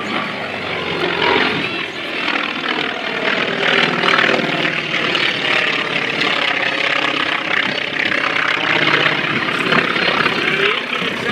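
A Wright R-1820-65 radial engine powering an FM-2 Wildcat at an airshow gives a loud, continuous throaty drone that swells and eases slightly as the plane flies past.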